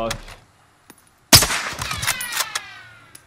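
AK rifle fire in the Warzone video game: after a near-silent pause, a loud burst of rapid gunshots rings out close, followed by clattering, metallic echoes and ringing tones.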